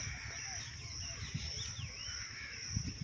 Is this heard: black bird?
yes